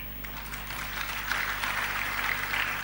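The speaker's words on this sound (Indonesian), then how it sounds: "tepuk tangan lagi" A church congregation claps during a sermon, producing a soft, steady wash of applause that holds at a moderate level throughout, with a low hum underneath.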